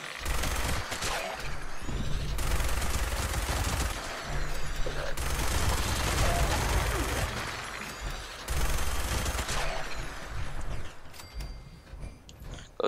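A furious fire-rate minigun roars in Fallout 76, delivering long sustained bursts of rapid, dense gunfire separated by brief pauses, with mechanical spin-up whirs and clanks between the loud, close volleys.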